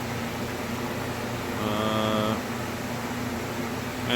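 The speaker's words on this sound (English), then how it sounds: "The loud noise you hear in the background is my shop heater." A shop heater roars steadily in the background as a constant broadband hiss and hum, with a brief tonal whine partway through.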